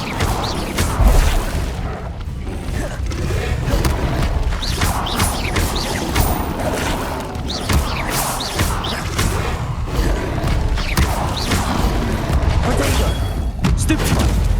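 An Incendio fire spell cast in Hogwarts Legacy in the Forbidden Forest: bursts of whooshing flame and booming impacts that repeat through a busy combat mix, loud and close.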